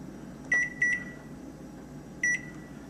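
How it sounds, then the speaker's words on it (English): Oven control panel beeps as bake at 350 and a timer are keyed in: three short electronic beeps, two close together and one after a pause, clear over quiet background. "we're going to hit bake. We're going to do 350, and then we're going to set our timer for about 40 minutes"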